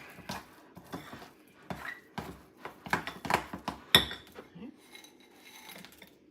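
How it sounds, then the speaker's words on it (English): Quartered Oreo cookies tumble into a bowl of melted chocolate mixture with a scatter of light clinks, taps and scraping against the bowl, several small close knocks in an irregular rhythm, then a few softer stirring sounds. "I'm going to add part of them to my chocolate mixture"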